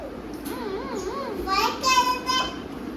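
A voice mimics an ambulance siren with a wavering up-and-down wail, moderately loud over a noisy home room with other sounds mixed in.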